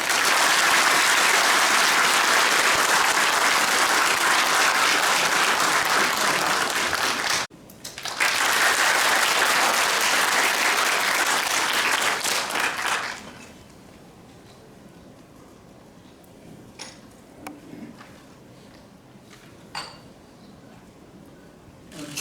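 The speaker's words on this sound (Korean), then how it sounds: "우리 큰 박수로 총장님을 모십시다." Loud, dense applause from an audience at a special lecture in Jecheon welcoming former UN Secretary-General Ban Ki-moon, a brief dip near the middle, then cutting off into a quiet hall with scattered small clinks and knocks.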